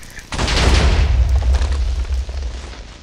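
TNT blocks blowing up in the Minecraft video game: a loud, close blast with a deep rumbling boom that swells and then rolls on, slowly thinning over a few seconds with no talking.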